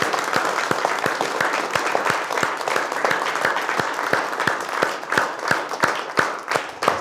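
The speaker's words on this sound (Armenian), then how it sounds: "Դրա համար ուզում եմ, որ բոլորով ծափարենք նախ եւ առաջ մեզ" A room full of people applauds together in steady, sustained clapping, individual sharp claps standing out over the dense wash of hands, close and fairly loud throughout.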